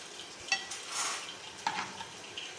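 Arbi (taro root) slices browning in a pan for a curry, a soft steady sizzle of frying broken by a couple of sharp stirring scrapes and clinks, close and moderately quiet, without talk.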